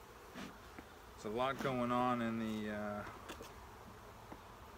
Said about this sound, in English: bees kind of foraging everywhere